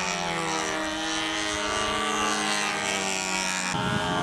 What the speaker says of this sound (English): A Lampione's flying his plane.